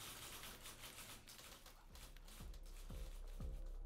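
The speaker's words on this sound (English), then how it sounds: "that last one is really interesting because it's typewriters." Typewriters tap in a loose rhythm under a hissy, noisy background. Several heavier low thuds land near the end, like carriage or key strikes, and the whole thing sounds faint and distant.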